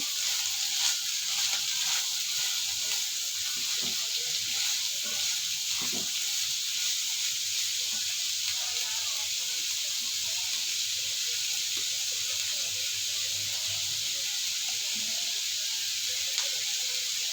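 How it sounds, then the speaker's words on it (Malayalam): A chopped vegetable mixture for bonda sautés in a pan, giving a steady, soft hiss and sizzle throughout with faint occasional stirring scrapes underneath. "ഈ അരിഞ്ഞ് വെച്ച കൂട്ട് ഇട്ട് കൊടുക്കുക നന്നായിട്ടൊന്ന് ഇളക്കി കൊടുക്കണം"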